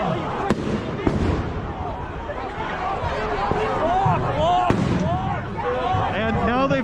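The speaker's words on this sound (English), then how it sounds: "the flashbangs are going off behind me, and I'm being pushed into them" Flashbang grenades going off as police disperse a crowd in Seattle on Election night 2020, sharp loud bangs against constant crowd noise, shouting and nearby talking.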